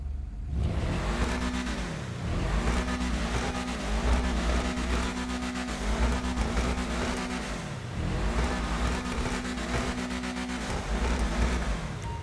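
Ubermacht Cypher car engine in GTA Online, running steadily and loudly with no talk, its pitch climbing and dropping through repeated gear changes as it accelerates off the line.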